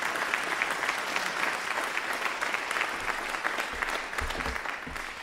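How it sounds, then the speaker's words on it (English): An audience at a championship brass band festival applauds steadily, a dense, continuous wash of clapping that carries on without a break. "So will you give Addy and Ian another round of applause, please?"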